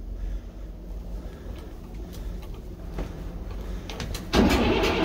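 A neglected Rail King SS4450 engine cranks without catching, the starter churning in a rough, uneven run outdoors before a louder burst near the end, still failing to fire.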